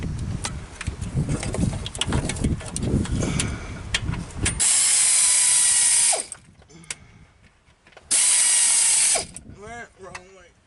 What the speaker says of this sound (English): I'm going to use my air wrench on that